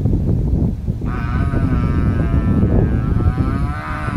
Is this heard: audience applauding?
no